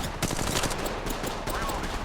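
Rapid gunfire in Apex Legends, a dense burst of automatic shots that rattles on through the whole stretch, loud and close, with a faint swell of other game noise partway through.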